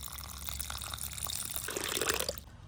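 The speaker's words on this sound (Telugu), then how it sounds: "వాటర్ యాడ్ చేసేసి నానబెట్టేద్దాం." Water is poured into a bowl of soaking lentils, cracked wheat, mint and coriander, a soft close splashing that swells into a fuller gush before stopping abruptly.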